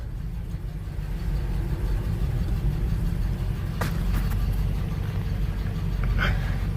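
An old truck engine idles and rumbles steadily while the vehicle backs up, a low continuous drone close by with a couple of brief clanks, no talking.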